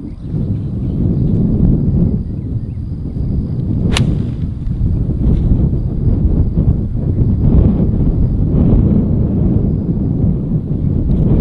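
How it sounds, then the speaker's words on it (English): On a golf course, a 52-degree wedge strikes the ball with one sharp, brief click under steady, heavy wind rumble. "I'm gonna hit 52 degree and try and kind of spin it into the hole."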